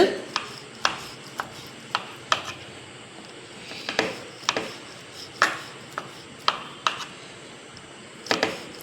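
A knife cuts through a soft baked tea cake in a series of about fifteen sharp taps and clicks. They land at an irregular, roughly steady pace, close and clear against a quiet background.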